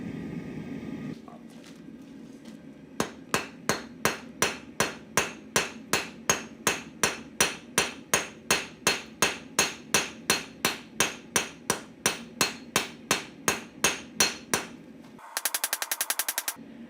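Steady rhythmic hammer blows ring out on hot metal, about two per second, loud and close, ending in a quick flurry of lighter taps.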